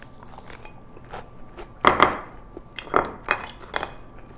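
Crunchy bites of Korean julienned radish salad (musaengchae), with a few crisp crunches and light clinks of utensils against a dish, close and without voices.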